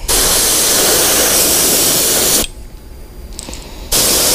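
Steady loud hiss of an aerosol spray paint can, a long burst that stops briefly, then resumes.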